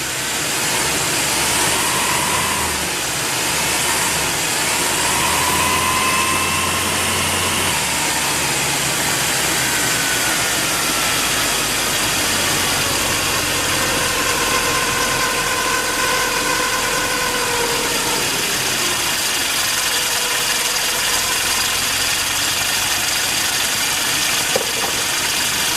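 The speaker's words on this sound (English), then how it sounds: "I can tell that motor's running better" Car engine idling steadily after a Seafoam oil treatment, a continuous low rumble with a constant hum running the whole time, close and fairly loud, with no voices.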